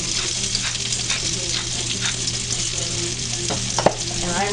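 Shrimp, salmon and bacon sizzle steadily in a hot pan, a continuous close frying hiss broken by a few scrapes and clicks of stirring.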